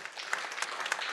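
An audience at the Prix Chronos award ceremony claps steadily, a brief burst of applause with no voices over it.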